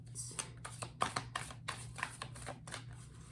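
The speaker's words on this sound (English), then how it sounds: "I apologize, as always, for making you sit and watch me shuffle." Tarot cards are shuffled up close in a series of soft, papery riffling bursts, repeating every half second or so at a steady, unhurried pace against a quiet low hum.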